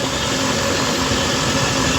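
A Toyota Innova runs in gear with a wheel bearing fault, giving a steady, continuous engine and drivetrain drone with a low rumble and faint hum throughout, close and constant with no talk.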